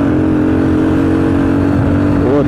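A small Volkswagen Gol with its exhaust dragging on the road, heard as a loud, steady engine drone with a rough scraping texture passing close by.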